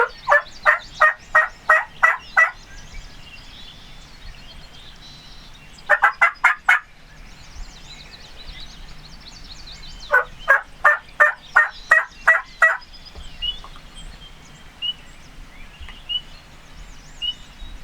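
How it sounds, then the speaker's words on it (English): A wild turkey gobbles in three rapid, rattling bursts, each a string of fast pulses, with quieter bird calls scattered between them, during spring in Franklinville, New York. "And hopefully them turkeys fly down the exact same way as they did yesterday."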